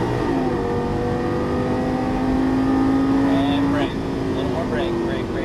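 A Lamborghini Gallardo LP-550 engine holds a loud, steady drone with a rising pitch, then drops briefly at a gearshift and climbs again, close and continuous, with a voice talking over it.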